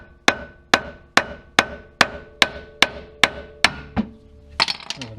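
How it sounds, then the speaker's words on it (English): A hammer strikes a car's outer tie rod end about nine times in an even, steady rhythm, each tap sharp and ringing, followed by a brief metallic rattle. "Go get my hammer. And just give this a"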